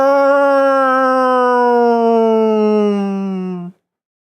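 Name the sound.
air raid siren sound effect in tabletop role-playing game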